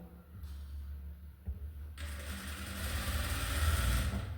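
After a quiet start, a sewing machine kicks in, running a half-inch seam on fabric with its right side placed together, a fast, steady mechanical whirr and clatter that grows louder toward the end.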